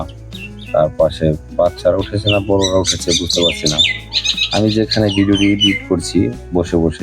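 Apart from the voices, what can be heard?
myna birds calling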